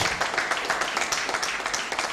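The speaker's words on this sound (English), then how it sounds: "So I think fellow shareholders, they deserve a round of applause." Shareholders at a company AGM clap for the board, a moderate round of applause with audible individual claps pulsing through a steady crowd wash.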